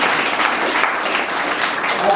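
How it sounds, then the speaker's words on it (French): Applause from guests at a French wedding ceremony, steady clapping heard briefly with voices talking over it. "Bon, applaudissez pour ce Boileau."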